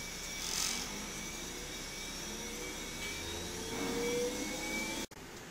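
A laboratory centrifuge spins a DNA sample up to 13,000 RPM, giving a steady, close whirring drone with a faint high whine that holds throughout before cutting off abruptly near the end.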